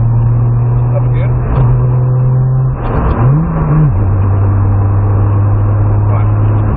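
Nissan Skyline R32 GTR engine holding a steady mid-pitched drone that dips and then climbs as the car accelerates, running loud and close, with voices talking over it.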